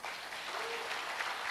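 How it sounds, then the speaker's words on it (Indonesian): A church congregation claps together in a brief, faint, steady burst of applause during an evangelist's sermon, heard from some distance. "Tepuk tangan dong."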